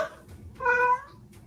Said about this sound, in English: No meowing.